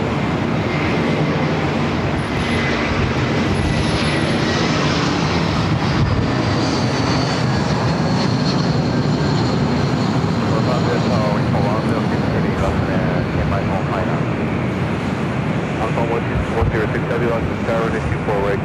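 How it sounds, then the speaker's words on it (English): Lufthansa Airbus A380 engines at LAX as the jet taxis toward takeoff, a loud, sustained roar and whine filling the scene with broad rumbling, while a voice talks over it. "This A380 Super should be heading up here for our north side of takeoff."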